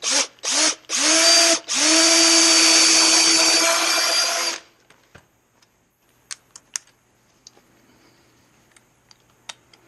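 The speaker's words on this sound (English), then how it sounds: "start more perpendicular to get the drill started and then move to the desired angle" A power drill drives screws into wood while building a sawhorse: a few short whirring bursts, then one long loud run of several seconds, followed by quiet clicks and light taps.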